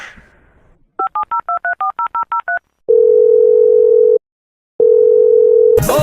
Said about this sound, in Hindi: प्राइम मिनिस्टर को फोन लगाओ।